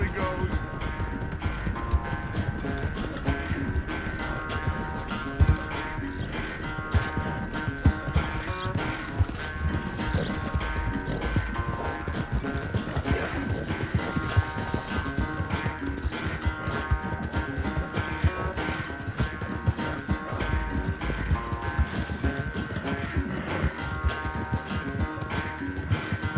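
A horse gallops in Red Dead Redemption 2 with rapid, continuous hoofbeats under a steady bed of game music, while characters talk over the running.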